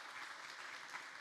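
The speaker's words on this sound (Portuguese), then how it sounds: "Dê uma salva de palmas do Senhor, amém?" A church congregation applauding, a brief, dense wash of many hands clapping together, fairly quiet and heard alone.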